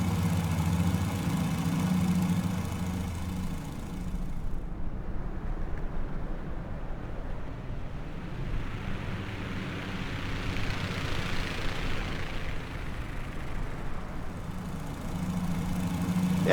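A Fokker F VII's engines at 2000 RPM in Microsoft Flight Simulator, a steady low droning hum with a throbbing rumble that swells slightly midway, continuous and unbroken with no talk.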